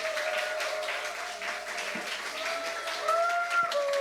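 A church congregation gives warm applause to welcome a speaker, a soft, continuous patter of many hands heard from the room, fairly even in level with a faint tonal hum beneath.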